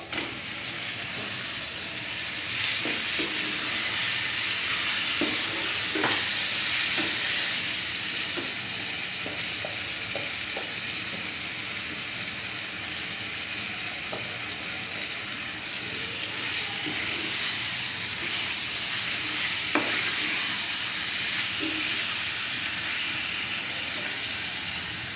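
Chicken pieces frying for biryani sizzle steadily in a pan, with scattered scraping clicks of a spoon stirring through the hiss, the sound loud and continuous from start to finish with no voices.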